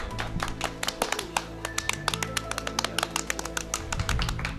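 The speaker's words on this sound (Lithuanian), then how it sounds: "Iki, plojimai į studiją." Studio applause following a Lithuanian talk-show chat with a bartender: a steady patter of many hands clapping for several seconds, dense and fairly close, with no voices over it.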